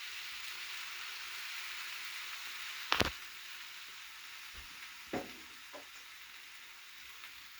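Salsa for chicken tacos sizzles steadily in a pan, a soft continuous fry with a few sharp scraping knocks of a spoon stirring through it, near and moderately quiet.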